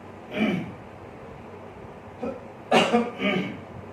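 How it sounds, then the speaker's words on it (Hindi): A few short, harsh coughs close to the microphone, a single one first and then a quick pair, with quiet gaps between. "खांसी होने लगी।"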